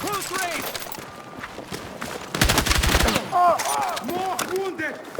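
Gunfire in the Battlefield 6 video game, a loud close burst of rapid shots in the middle amid game voices and shouted talk, with other battle noise around it.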